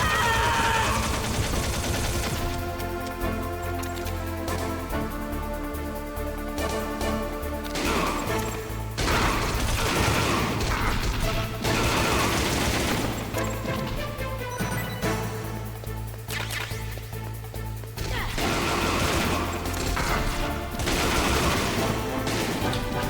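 Gunfire in Metal Gear Solid: repeated bursts of shots and crashing impacts recur throughout, mixed over loud, sustained game music.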